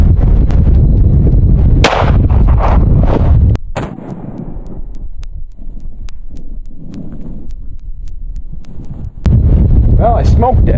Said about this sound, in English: So let's shoot it with the 9mm.